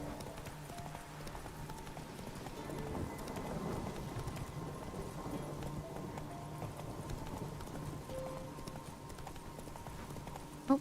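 Roach the horse clip-clops along in The Witcher 3, a steady rhythm of moderately close hoofbeats over a low ambient game background, with no talking.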